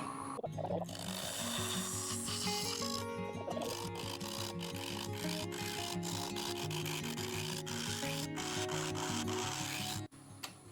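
A wood lathe spins a small natural edge burl bowl at about 800 RPM, giving a steady, fairly quiet hum with continuous scraping from the cutting tool that stops abruptly near the end.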